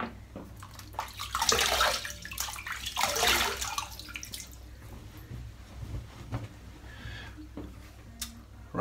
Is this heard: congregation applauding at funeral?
no